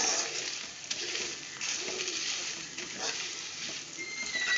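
Dried red chillies frying in a little oil in a pan, a steady, fine sizzle and crackle that rises and falls slightly, close and continuous.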